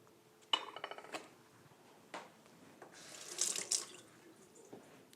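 Water runs from a kitchen tap into a sink to wet a knife for slicing keto sushi rolls, starting after a brief clatter of dishes and gushing steadily, loudest near the end, with no talk.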